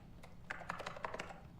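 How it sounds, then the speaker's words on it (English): Rapid, uneven keystrokes on a computer keyboard inside the video game Alan Wake 2, a quick burst of crisp clicks heard alone and fairly close. "I like the sound his keyboard makes"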